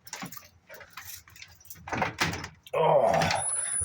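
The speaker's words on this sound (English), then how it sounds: "I'm gonna sneak in, put these keys back." Metallic jangling of keys with soft handling clatter, followed by a louder rustle or door-like thump, close by and intermittent.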